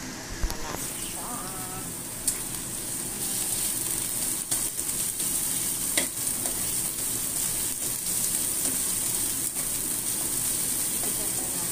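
Onion and garlic sautéing in a hot wok for squid adobo with bitter melon, a constant rain-like hiss of frying after a brief clatter as they go in, close and steady.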